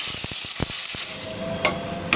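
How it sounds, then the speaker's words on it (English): Bay leaves and cumin seeds crackling in hot oil for Amritsari chole, a quick run of sharp pops at first, then a softer steady sizzle with a couple of louder spits near the end. "In 3 tablespoons of hot oil, add about 2 bay leaves and 1 teaspoon of cumin seeds, that is zira, and let it to splatter"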